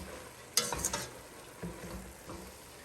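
Riced cauliflower stirred in a frying pan for taco season: a sharp scrape and clatter of a utensil near the start, then softer stirring scrapes over a low, steady sizzle, close and moderately quiet.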